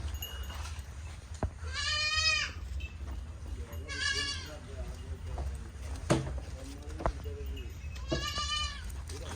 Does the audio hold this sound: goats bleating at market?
yes